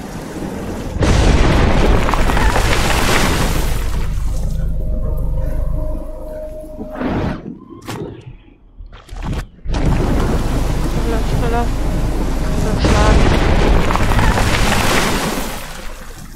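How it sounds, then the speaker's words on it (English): Thunderstorm with a tornado in the video game Life is Strange, a loud, continuous roar of wind and rain with deep rumbling booms, briefly dropping away in the middle before the storm surges back at full strength. "The tornado is back!"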